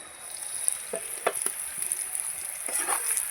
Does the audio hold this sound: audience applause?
no